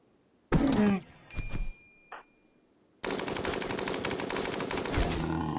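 Rifle gunfire in the video game RimWorld: a few sharp bursts and clicks early on, then a sustained loud stretch of rapid automatic fire, close and with no voice over it.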